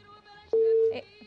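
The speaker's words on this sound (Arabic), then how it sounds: "الخط قطع" A telephone line tone sounds after a call drops, a single steady beep of about half a second standing out over faint background noise and brief murmurs.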